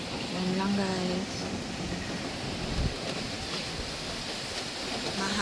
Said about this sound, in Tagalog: Mahangin pa din.